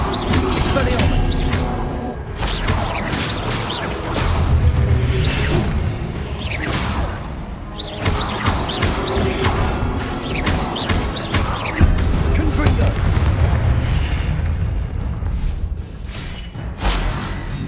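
Expelliarmus disarming spell in Hogwarts Legacy, with repeated whooshing bursts, magical flares and thuds spread across a busy combat soundscape, mixed with game music and other effects.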